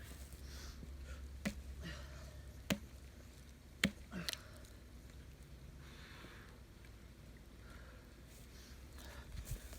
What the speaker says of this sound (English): I love splitting wood.